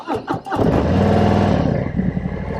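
A Harley-Davidson Tri Glide Standard motorcycle cranks briefly, then fires into a loud, close, lumpy V-twin idle that settles and runs steadily.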